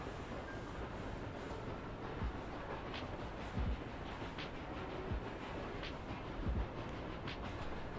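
Train in The Escapists 2 prison-escape game, a steady rolling rumble of wagons on rails with faint periodic clanks and thumps, continuous and moderately quiet throughout, with no talk.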